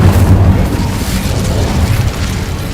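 A fire spell from a Harry Potter video game bursts with a loud, sustained low rumble and crackling roar lasting nearly three seconds, steady and close throughout.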